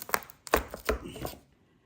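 A knife roughly chops garlic on a cutting board, giving about five quick, close, solid thunks in an uneven rhythm before it goes quiet, and no one speaks.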